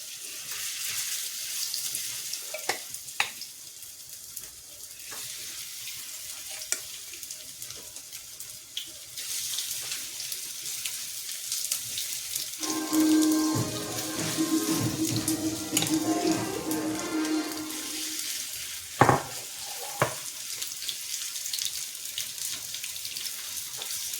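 Chicken fries in oil with a loud, continuous sizzling hiss, broken by a few sharp clatters and a busier bubbling stretch midway.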